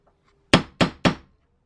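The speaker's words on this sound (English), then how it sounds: "just hammering some staples so she can silicone" Three sharp, loud hammer blows drive staples into the wall of a truck camper under renovation, struck close by in quick, even succession after a brief quiet lead-in.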